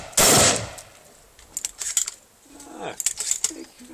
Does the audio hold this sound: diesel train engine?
no